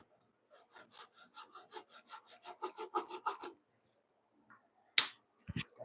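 A hand saw cuts through wooden corner braces in a workshop with a quick run of about fifteen rhythmic rasping strokes that build louder, followed by a pause and a few sharp knocks.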